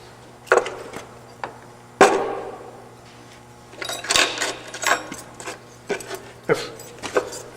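Metal being cut on a machine to form a T-slot for a Mauser M712 Broomhandle display piece, heard as irregular scraping, chattering bursts and sharp clanks at close range with no talk.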